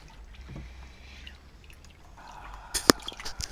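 Bathwater splashes and drips as a small child is washed in a tub, with quiet trickling that builds into a few sharp, close splashes near the end.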